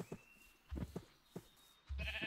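Sheep in Minecraft bleat in short bursts during a farming scene, several brief calls spread over a couple of seconds, fairly close and clear, with no talking.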